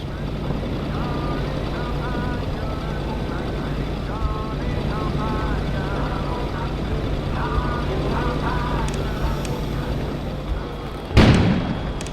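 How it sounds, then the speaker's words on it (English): A sudden loud boom bursts out near the end, outside in the video game Kona, over a droning engine-like hum and faint tonal music. "An explosion suddenly occurred outside."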